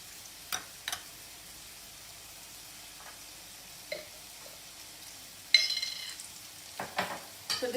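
Salt is stirred into coconut rice cooking in a pan, with a few soft scrapes and clinks of the spoon, then a louder stretch of stirring and a gentle sizzle, close and without speech.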